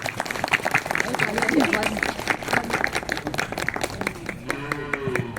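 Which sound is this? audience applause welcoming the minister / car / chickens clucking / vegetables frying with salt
audience applause welcoming the minister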